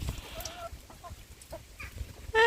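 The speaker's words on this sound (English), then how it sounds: "I've gained another chicken, look." A chicken in a storm-damaged backyard pen clucks in a few short, close calls, with soft rustling and scuffling around it and a brief louder tonal sound at the end.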